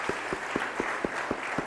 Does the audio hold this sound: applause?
yes